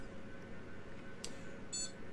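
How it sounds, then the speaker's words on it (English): An Xpenology NAS server gives a single short, high electronic beep as it reboots, heard faintly over a steady room hum. "You will hear a beep here in a second."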